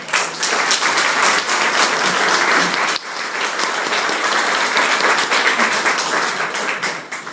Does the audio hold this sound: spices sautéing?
no